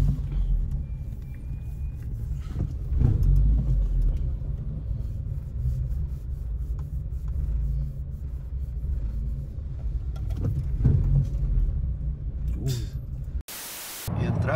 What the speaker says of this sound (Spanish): quiero hacer este video para que vean cómo se pone el tráfico aquí